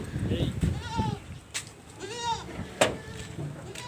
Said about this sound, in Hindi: ये बकरी है।